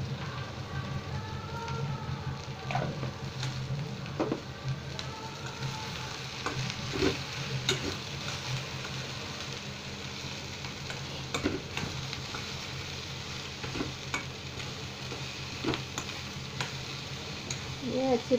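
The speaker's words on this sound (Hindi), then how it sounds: "ये अच्छी तरह फ्राई हो जाए तब तक इसको हम थोड़ी देर में हिलाते रहेंगे" Potato and capsicum frying with red chilli, coriander powder and salt, a soft rain-like sizzle with intermittent stirring scrapes and clatter, fairly quiet and steady.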